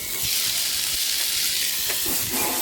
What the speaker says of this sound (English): the thing that takes longest to cook about this is sauteing the peppers and onions